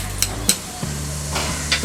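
A spoonful of cumin seeds hits hot oil in a pan, giving a soft crackling sizzle with a few light clinks of stirring, close by.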